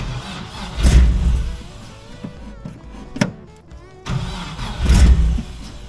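A Jeep engine cranks and catches after its fuel pump is hot-wired, with two loud starting surges and revs separated by a rough, lower running stretch, close and without speech.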